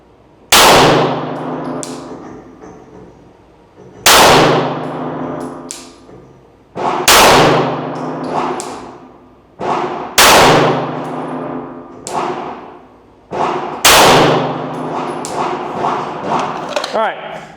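Five handgun shots fired strong hand only at a shooting range, each a loud ringing crack spaced a few seconds apart and fading between rounds.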